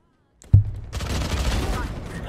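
A gunshot in the video game Valorant, one sharp close crack after a brief silence, followed by a dense burst of noisy game sound with some voice mixed in.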